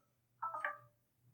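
A short, faint electronic phone ring chirps once in the video game Masters of Crime: Rapture, a brief tonal trill over a quiet low hum, with no talking.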